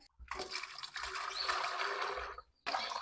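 Water pours steadily into a container for mixing car wash shampoo, a close, continuous splashing rush lasting a couple of seconds, stopping briefly and then resuming.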